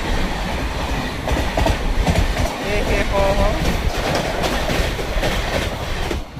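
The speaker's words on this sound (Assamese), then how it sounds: "এখন ট্ৰেইন পাৰ হৈ গ'ল" A train passes at high speed during a rail journey between Odisha and Visakhapatnam, heard as a loud, continuous rumble with rhythmic clickety-clack and a brief voice.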